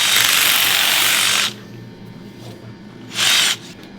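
Battery drill fitted with a tail trimmer cutting a cow's tail, two loud high whirring bursts, the first long and the second short, with quiet barn background between.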